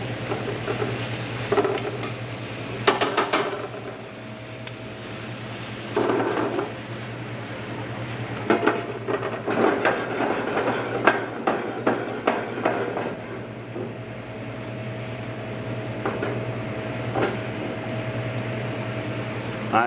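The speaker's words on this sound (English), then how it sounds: "if you look at our sauce, it's just about reduced. We're going to let it go for maybe another minute tops." Sauce bubbles and sizzles quietly in a pan as it simmers and reduces, with a steady low hum underneath and occasional clinks and scrapes of a utensil stirring.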